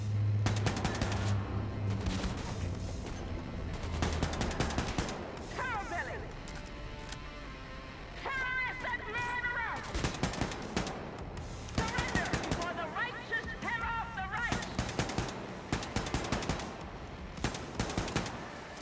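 Gunfire in the video game Wolfenstein II: The New Colossus, repeated bursts of shots and crashes across a continuous noisy battle, with game voices in between.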